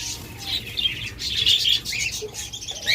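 Pet lovebirds, budgerigars and cockatiels chirp and tweet in a steady overlapping chatter, with bright short calls close by and occasional wing flutters beneath them.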